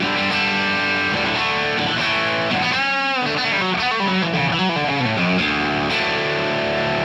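Electric guitar played through a distortion tone on a live rig built around a Vox AC30 amp, with sustained overdriven chords and bending, swirling notes over about seven seconds, loud and up front with no talking.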